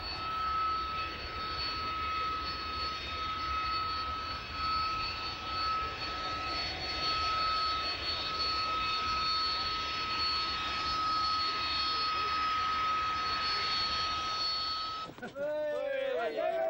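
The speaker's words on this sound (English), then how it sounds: "This is the T-10 trainer version flying into Fairford from its base at RAF Wittering" A Harrier T-10 trainer jet flies in to Fairford from RAF Wittering, producing a loud, sustained roar with a steady high whine throughout, until a voice breaks in at the very end.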